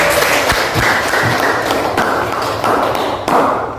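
Applause from a class of students in a classroom lesson, a dense steady patter of clapping lasting several seconds at fairly close range, with a few sharper claps standing out near the start.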